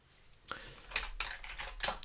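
Several distinct keystrokes on a computer keyboard while entering an Excel multiplication formula, sounding as sharp clicks in an uneven cluster, close to the microphone with no voice over them.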